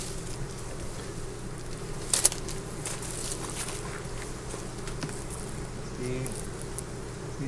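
A continuous, close hum of many honey bees buzzing at a hive, steady throughout with a brief sharper sound partway through.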